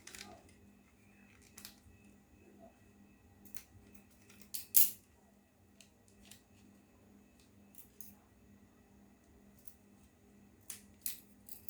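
Scissors cut and notch fabric for a blouse: sparse, quiet snips and clicks spaced irregularly over a faint low hum, with one sharper cut partway through.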